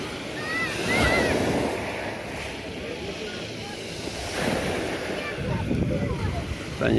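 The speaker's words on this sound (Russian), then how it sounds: "Немножко волны, но это даже хорошо." Sea waves at Tsarsky Beach in Novy Svet, with boats mooring nearby: a continuous wash of surf with swells rising and falling, mixed with gusty wind noise on the microphone.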